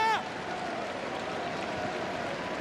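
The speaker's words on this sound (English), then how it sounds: "And down the right side, there's a round of applause." A rugby league crowd in the stand at a World Cup match, Samoa v France, gives the Welsh Physical Disabilities Rugby League side a standing ovation, heard as a steady, distant wash of clapping and cheering after a brief tone.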